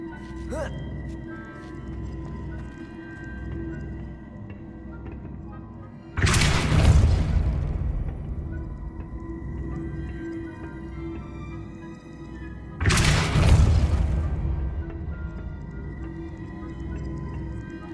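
Depulso spell cast in the video game Hogwarts Legacy: two separate heavy whooshing booms, each a sudden loud burst that swells and then fades over a few seconds, set against a low ambient game hum.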